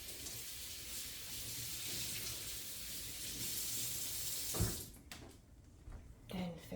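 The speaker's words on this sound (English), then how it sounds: "just wipe it down and squeeze out in the sink as I go. And give it a rinse." Running water from a kitchen sink faucet as a cloth is rinsed and wrung out, a steady close wash that breaks off near the end into a few splashes and drips.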